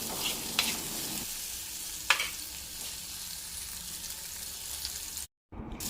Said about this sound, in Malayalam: ഈ ഉപ്പിട്ടതിന് ശേഷം നല്ലപോലെ ഒന്ന് ഇളക്കി കൊടുക്കണം.